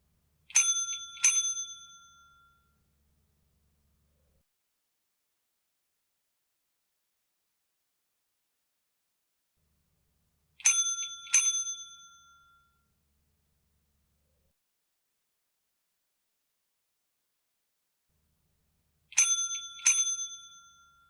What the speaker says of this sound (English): just so I can make sure I'm getting as much of the bell sound as I can